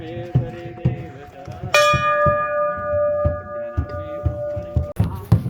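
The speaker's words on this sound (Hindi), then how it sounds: "घंटी।" A metal temple bell at Tungnath temple, a high Himalayan Shiva shrine, struck once with a bright, close clang that rings on steadily and fades over several seconds amid footsteps and crowd noise.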